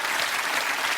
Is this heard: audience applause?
yes